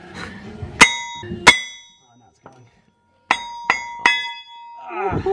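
Sharp metallic strikes of a copper hammer on an RB30 engine flywheel ring out in two pairs, then a quick run of three, each leaving a bright ringing tail, with muffled talk before and after.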